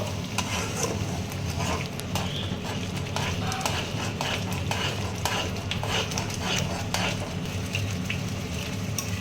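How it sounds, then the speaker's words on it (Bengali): Cashew and poppy seed paste being stirred with prawns in a pan, a dense continuous sizzle with rapid scraping and clacking strokes of a spatula, loud and close throughout. "কাজু আর পোস্ত বাটাটা দিয়ে আবারও ভালো করে আমি নাড়াচাড়া করতে থাকবো"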